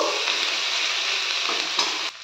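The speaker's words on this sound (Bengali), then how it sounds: "পেঁয়াজ আর রসুনটা দিয়ে আমি একটু ভালো করে নেড়ে নেব" Ground onion and garlic paste sizzles as it is stir-fried in a pan for mustard prawns, a close, steady frying hiss with faint scraping strokes of the spatula and no talking.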